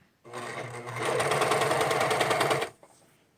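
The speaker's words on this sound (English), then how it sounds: "when you're serging, you're just going to take off this very edge so that your elastic is completely encased in the serger thread" A serger sewing machine stitches elastic onto a bodice edge, running in one continuous fast buzzing burst of about two and a half seconds, close and loud, then stopping.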